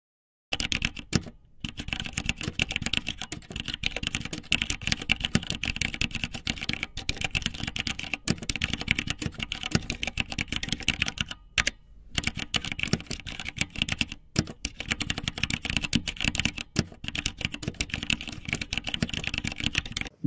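Steady computer keyboard typing through a beginner touch-typing drill of repeated L and A letter combinations with thumb-pressed spacebar, a continuous close clatter of keystrokes with only a few brief pauses.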